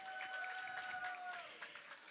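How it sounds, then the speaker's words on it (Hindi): An audience at a Durga Puja festival stage claps for young children's dance class performance, a quiet crowd applause with scattered hand claps, while a sustained tone hums underneath and the clapping thins toward the end. "एक बार जोरदार तालियां हो जाए उनके लिए"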